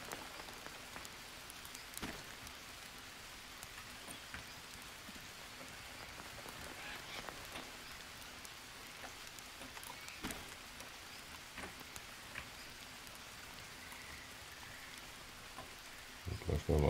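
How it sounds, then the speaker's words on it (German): Steady rain patters on a surface in the video game Green Hell, a soft continuous hiss with scattered droplet ticks, fairly faint and with no talking. "So, es regnet"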